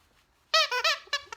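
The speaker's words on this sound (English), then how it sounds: "I got to go with the squeaky toys to get her away from the window." A squeaky dog toy squeezed several times in quick succession, giving sharp, loud, high-pitched squeaks close by after a brief quiet moment.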